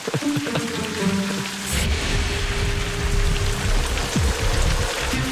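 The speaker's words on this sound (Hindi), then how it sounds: "बारिश और पानी का बहाव दोनों तेज हो रहे हैं" Heavy rain patters densely over a broad rushing roar of a cold river in a forest, steady and loud throughout.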